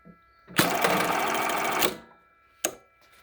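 A Jack JK1377 button sewing machine stitches a button with a rapid mechanical chatter lasting about a second and a half, then a sharp single clunk as the thread trimmer fires, close and clear.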